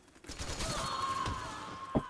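Gunfire from Metal Gear Online 2 multiplayer: a rapid burst of shots with a sustained whine, then a sharp single crack near the end, moderately loud with no voices.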